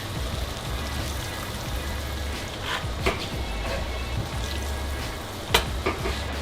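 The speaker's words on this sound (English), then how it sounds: "just shake those around a little bit and get them out of the pan" Pieces of deer heart rattle and sizzle as they are shaken in a hot frying pan, a steady frying hiss with a couple of sharper clatters, close and moderately loud.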